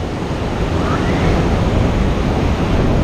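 Ocean waves and surf wash steadily into a Bali cove, a continuous loud roar with wind buffeting the microphone and no distinct break between swells.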